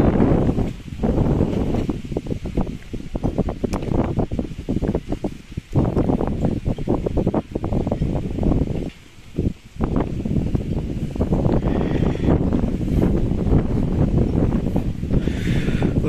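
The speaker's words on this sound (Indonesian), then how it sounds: "Untuk cuacanya mendung tapi berangin." Steady wind buffets an outdoor site under overcast skies where a conical tent is being raised for an event in Malang, with continuous broadband wind noise, microphone buffeting and rustling for the whole stretch, briefly dipping once.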